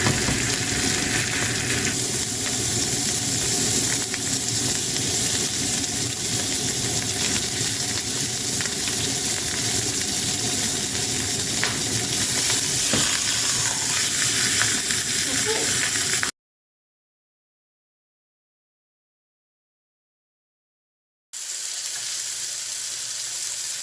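Beef roast searing in a hot frying pan, a loud steady sizzle and hiss that cuts out for a few seconds before resuming more quietly.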